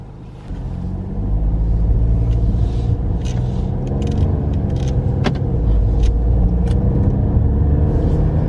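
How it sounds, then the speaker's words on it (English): A car driving along a road, heard from inside the cabin as a steady, loud engine and road rumble after a brief quieter start, with occasional faint rattles and clicks. "Somebody get up here beside me and let's go for a ride."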